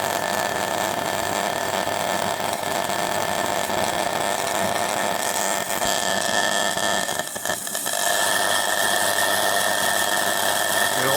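A cylindrical capacitor filled with argon spins inside cylindrical magnets at about 2000 volts, giving a steady loud hum and whine with a brief dip and flutter partway through, and no talking.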